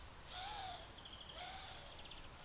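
Two soft, drawn-out bird calls sound in a forest, faint and distant over a steady hiss of background noise, each a gliding whistle followed by a brief trill.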